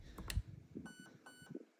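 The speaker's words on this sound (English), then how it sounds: "2 beeps" Short electronic beeps from an airsoft gun's HAL MOSFET/ETU during programming, a pair of faint tonal bleeps following an earlier blip, with low background noise between them.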